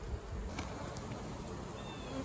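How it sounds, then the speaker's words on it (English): Honey bees swarm around a strong, crowded hive on a hot day in a dense, steady buzz that holds at an even level from start to finish, with no talking. "There's a lot of bees in here."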